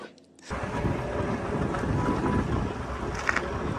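Strong wind buffets the microphone at Dwarka with a constant low roar and rumble, starting abruptly and continuing loudly to the end.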